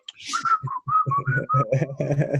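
A person whistles a few short bright notes over a busy background of muffled voices and low thumping.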